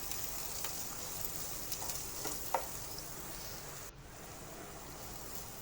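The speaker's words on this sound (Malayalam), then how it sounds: "പൊടിയായിട്ട് അരിഞ്ഞ സവോള ഇട്ട് കൊടുത്തു" Finely chopped onion fries in a pan, a steady, soft, continuous sizzle with faint clinks of stirring and no talk.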